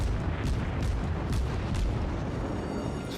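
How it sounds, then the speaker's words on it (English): A World of Warships cruiser empties a naval gun salvo at an enemy cruiser, a dense, loud stretch of overlapping booms and rumbling blasts that runs without pause. "I'm just emptying a salvo onto this"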